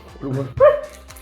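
A dog named Noisette gives a single sharp bark right after a brief spoken word, close and loud indoors.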